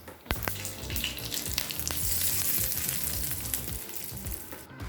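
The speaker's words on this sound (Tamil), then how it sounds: "இப்போ சட்னியை தாளிச்சிடலாம்." Ginger chutney being tempered in hot oil, a loud continuous sizzle with spattering crackles after an opening clatter, fading slightly at the end.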